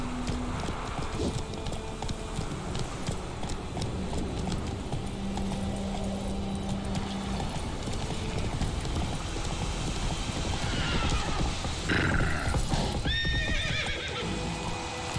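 Roach, the horse in The Witcher 3, trots with steady rhythmic hoof clip-clops over faint wind, then lets out a clear whinny near the end.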